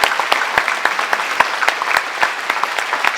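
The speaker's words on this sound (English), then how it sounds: "I want to take a moment to acknowledge her with a round of applause." Audience applause fills the room at a gathering before an assembly, a steady wash of many hands clapping at close to moderate distance, sustained without pause throughout.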